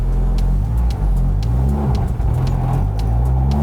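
A Mercedes 190E race car pulls away in first gear on a track, its engine loud and close with a steady, rising drone and rhythmic ticking, no voices.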